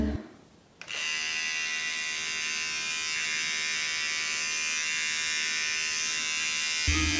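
Electric hair clippers fitted with a 9 mm attachment, switched on after a brief quiet start and running with a steady, close, loud buzz and hum until cutting off at the end, with no talking.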